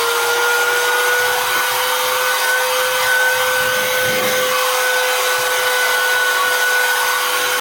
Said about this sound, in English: I'm gonna use this air duster to clean my stairs going down to my basement